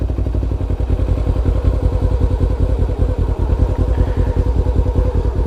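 A motorcycle engine idles steadily close by with a fast, even low throb, overlaid by light mechanical clatter. A learner eases the clutch out so the bike rolls forward.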